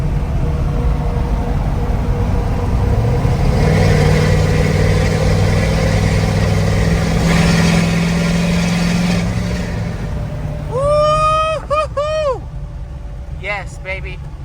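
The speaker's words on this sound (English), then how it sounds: "we're going to be passing a bridge here, so the exhaust will sound pretty good right here" Tuned 2020 Ford 6.7 Powerstroke diesel with a 5-inch exhaust, towing a Big Tex gooseneck dump trailer, drones loudly and steadily at cruising speed, swelling as it passes a bridge, before whistling and chirping sounds come in near the end.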